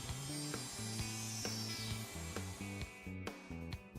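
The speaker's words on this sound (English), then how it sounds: "The socket board is routed by moving in and out of the template openings." A router cuts a socket board through a dovetail template on a wooden board, a steady whining motor tone broken by repeated short bursts of cutting as the bit moves in and out of the openings.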